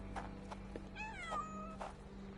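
Inside a Sherlock Holmes video game, a cat lets out a single clear, drawn-out meow with a rising and falling pitch, heard over a steady low hum and a few soft background clicks.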